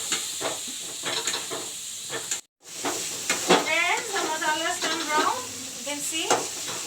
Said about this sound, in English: I will let the masalas brown now.